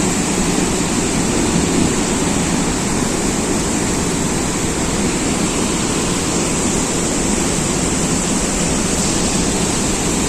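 Water roars steadily through the opened gates of the Musi river dam, a loud, continuous broadband rush with no letup and no voices over it.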